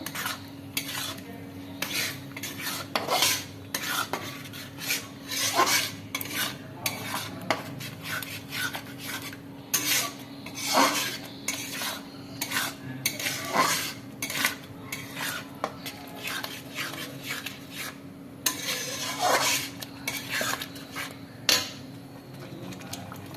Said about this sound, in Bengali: কষার পর যে পেঁয়াজটা পেস্ট হয়েছিল একটু জল দিয়ে নাড়াচাড়া করছি